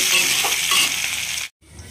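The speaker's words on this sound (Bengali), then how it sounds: "এবার দিয়ে দিচ্ছি 3টে বড় বড় কুচনো পেঁয়াজ, দিয়ে লো ফ্লেমে 3-4 মিনিটের মতন ভেজে নেব।" Three large chopped onions sizzle loudly and steadily in hot oil over a low flame, with a brief cut to near silence just before the end.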